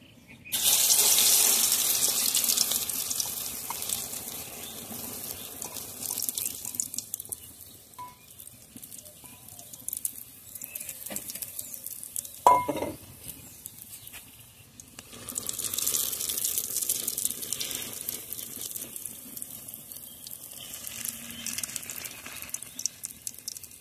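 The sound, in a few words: red lentil batter poured into hot oil and frying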